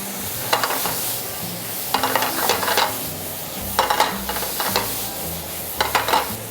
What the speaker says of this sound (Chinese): 水分少一点的时候，我们把泡菜放进来。